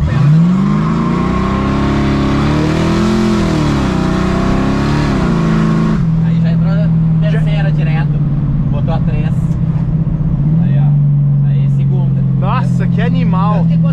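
A Chevrolet Chevette fitted with a V8 roars as it accelerates, its pitch climbing and dipping through the gears in the first half, then settling into a steady drone. People talk inside the car over the engine.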